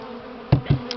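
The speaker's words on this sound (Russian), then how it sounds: "И столько пчел сразу появилось." Buckfast honey bees at an opened hive during a spring inspection, a steady close buzz with a couple of louder bursts as individual bees fly past.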